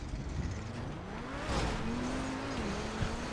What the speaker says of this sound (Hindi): गाड़ी फिसल रही है